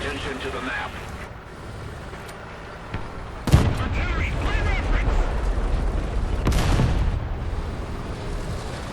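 Tank gunfire in War Thunder from an M4A2: two heavy cannon blasts a few seconds apart, each a sharp loud crack with a booming tail over battle rumble, with someone talking throughout.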